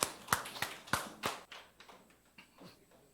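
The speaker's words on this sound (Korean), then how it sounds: "박수드리겠습니다." A church congregation claps briefly during a Sunday worship service, with several loud, separate, sharp hand claps that soon fade into a few softer, sparser ones.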